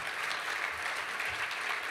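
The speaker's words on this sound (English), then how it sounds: "clap it up a little bit" Audience applause at a benefit dinner, a dense, even wash of clapping from a crowd, heard at moderate distance and steady throughout the short stretch.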